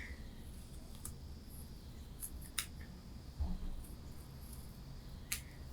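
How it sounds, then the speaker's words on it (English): Scissors cut paper freehand for a maple leaf shape during a tape resist painting craft, heard as a few sharp, quiet snips scattered over faint background noise. "maybe the free-handed scissors are a little easier than the X-Acto knife"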